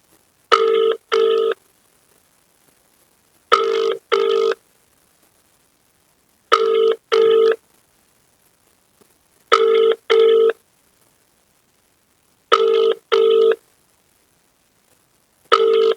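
Ringback tone on an unanswered phone call, repeating double rings in evenly spaced pairs about every three seconds, clear and electronic with silence between each pair.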